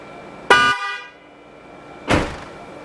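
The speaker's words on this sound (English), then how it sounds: "That's how you install 2 new horns." Two short, loud blasts from a pair of newly installed car horns sound nearby, separated by a second and a half of near silence.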